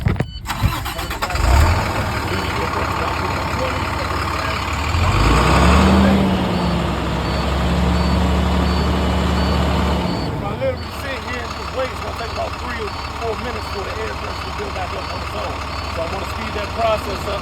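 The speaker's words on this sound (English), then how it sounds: "I put my foot on that gas, bring them RPMs up to 15, and that's going to bring up that air pressure" A class B truck's diesel engine idles, then revs up and holds higher RPM to rebuild air brake pressure before settling back to a steady rumble, with faint clatter and hiss around it.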